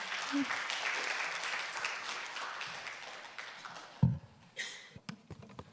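Audience applause at an AI industry conference in Korea, welcoming a speaker onto the stage: a broad wash of clapping that fades out, followed by a few isolated knocks and shuffles.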